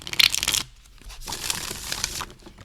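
A tarot deck printed on playing-card cardstock is shuffled close up, giving two quick riffling bursts of papery crackle separated by a short quiet gap.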